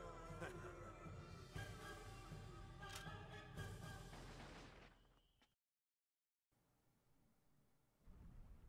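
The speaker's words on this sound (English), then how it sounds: "Gunshots? Over there!" Gunfire in a Xenosaga Episode III cutscene comes as a few heavy, booming bursts over a dense game soundtrack, followed by a sudden dropout and quieter ambience.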